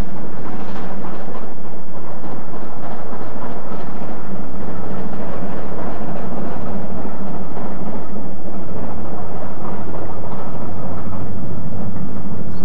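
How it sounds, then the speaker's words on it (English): A Standard 5 steam locomotive hauls a Waterloo to Southampton Docks boat train on the LSWR main line, producing a loud, continuous rumble and roar that holds steady throughout. "A Standard 5 works a Waterloo to Southampton Docks boat train."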